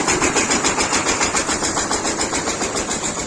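A Kentavr-240VR small tractor engine runs steadily at close range during potato planting, a continuous mechanical drone with a slight rhythmic pulse and no talking.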